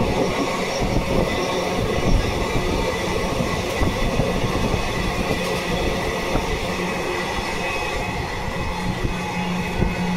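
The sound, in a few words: Lalgola Sealdah Express train running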